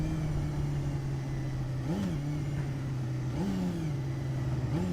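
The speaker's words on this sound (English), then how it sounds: "Once it's started, let it warm up a little bit" Honda CBR250R MC19 250cc sport motorcycle idling steadily as it warms up, a close, continuous engine drone with a few brief blips rising in pitch every second or so, heard alone without voices.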